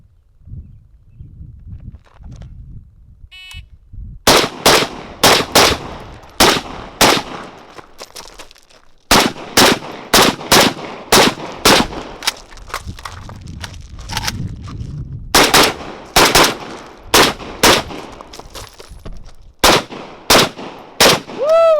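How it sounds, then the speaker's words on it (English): ZPAP M70 rifle fired outdoors in a timed reload drill, loud sharp shots in rapid strings of several rounds separated by pauses for reloading, with footsteps and handling noise between volleys. "gonna run the ZPAP with the reload, Running Diamond version 2"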